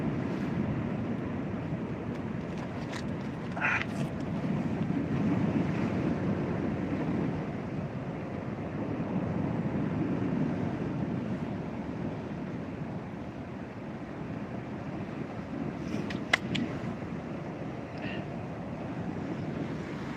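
Rough water on a fishing trip washes and churns steadily, with a continuous low surf rumble under light wind and a few faint, brief splashes and knocks scattered through.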